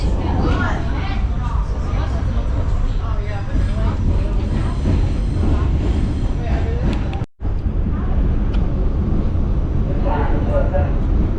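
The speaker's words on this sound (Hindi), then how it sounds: "यहाँ बड़ा शोर कर रही है ये ट्रेन।" An elevated train in Brooklyn, New York, runs on tracks above a gas station and shop, making a loud, continuous rumbling roar heard close by, with people talking over it throughout.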